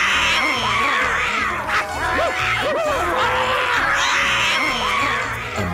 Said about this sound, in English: all 3 cats ran screeching out through the front door, out onto the street, and ran away as fast as they could